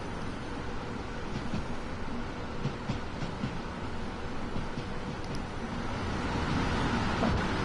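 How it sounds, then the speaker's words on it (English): A Class 390 electric train in Train Sim World 5, heard from an outside view as a steady rolling rumble with faint traction-motor whine and occasional rail clicks, continuous with no talk. "I will be on the outer camera to let you all hear the traction motors on the 390."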